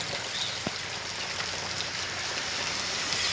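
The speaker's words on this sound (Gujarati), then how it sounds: "ફૂલ વરસાદ ચાલુ" Heavy, steady rain pours down at an evening home in Gujarat, a dense continuous hiss with close droplet patter throughout, no voices.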